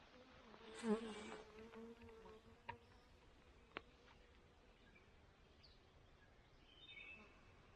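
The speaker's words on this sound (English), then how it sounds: "There's a honeybee." Honeybee buzzing around flowering plants outdoors near a barn, a faint short drone passing close early on, then quiet background with a few soft clicks and distant hum.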